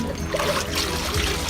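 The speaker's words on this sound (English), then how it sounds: "So you take the filter pads and you rinse it out in this water" Canister filter pads being rinsed out in a container of water, with a steady soft trickling and sloshing of water close by.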